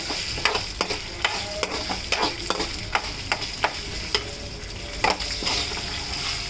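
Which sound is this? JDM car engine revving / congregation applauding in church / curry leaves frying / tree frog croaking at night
curry leaves frying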